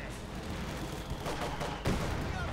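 Pak 40 anti-tank gun and StuG assault gun fire in Company of Heroes 2, soft distant battle rumble with a sharper shot near the end.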